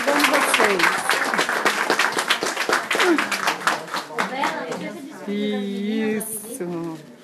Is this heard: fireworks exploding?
no